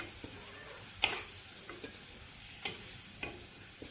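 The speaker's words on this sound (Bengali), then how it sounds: "তেলের মধ্যে তেজপাতা জিরা" Bay leaves and cumin seeds hit hot oil in a pan, giving a faint, steady low sizzle with a few soft clicks and stirring knocks scattered throughout, no voices.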